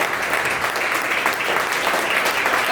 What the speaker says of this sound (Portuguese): Eu posso ouvir um glória a Deus e um aplauso para Jesus?